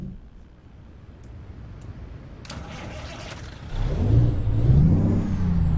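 An International Prostar truck with a Cummins or Navistar engine in American Truck Simulator idles low, gives a short air brake hiss, then swells into a louder rumbling rev near the end.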